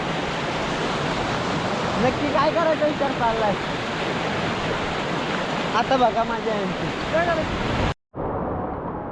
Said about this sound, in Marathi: आलो का नाही मोठ्या धबधब्यामध्ये